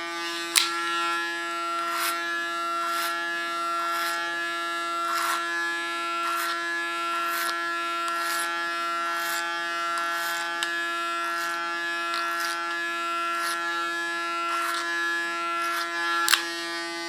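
Electric hair clipper buzzes steadily with a constant hum while cutting short hair, a few brief clicks and rhythmic strokes repeating about once a second over the continuous drone.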